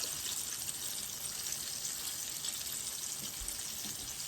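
Steady, dense sizzling of chicken frying in hot oil, a constant crackling hiss with no voices, fairly close.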